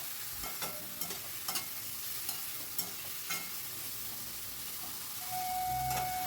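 Chopped tomato stirred into frying spices in a pan, making a soft crackling sizzle with scraping strokes at a moderate distance.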